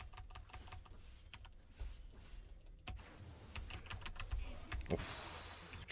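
Keyboard keys click crisply during a League of Legends match played as Shaco. The soft, close taps come in an irregular rhythm over a quiet background hum.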